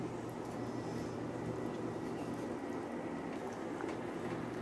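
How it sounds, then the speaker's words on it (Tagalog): Ingredients with potato simmer in a covered pot, a steady low bubbling roil that continues evenly throughout, close and moderately quiet with no talk. "Pakuluan. Hanggang sa lumambot ang mga ingredients natin."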